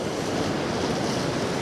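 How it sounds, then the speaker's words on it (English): Sea water washing and splashing around rocks near a shipwreck on the shore, a steady close broadband surf roar with constant churning and no distinct individual wave hits, heard alone without voices. "capture some of the small bits of movement in the water as it's splashing about"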